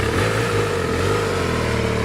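A KTM Duke 250 motorcycle in Ebony Black runs its engine close by with a steady, loud, low rumble that holds an even pitch throughout and carries no speech.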